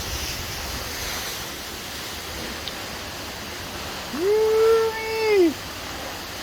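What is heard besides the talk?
waterfall at Twin Falls, Idaho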